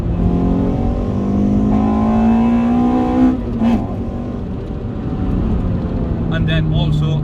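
Remapped Toyota Corolla T Sport with an induction kit revving up through the range, engine note rising steadily then dropping away, close and loud, with a voice talking over it.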